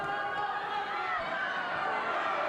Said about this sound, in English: Crowd loving this action.